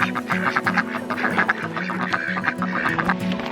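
Ducks quack repeatedly at morning feeding time in a farmyard with chickens and a goose, busy overlapping calls close by, with a steady background hum.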